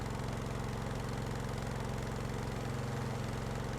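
A Stormworks engine idles with the throttle down at zero, a steady low, even chugging pulse that holds faint and unchanging throughout.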